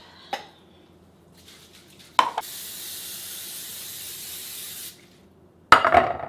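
A steady hiss of cooking spray on muffin skins lasting a few seconds, bracketed by the clatter of a pan or dish being handled before and after.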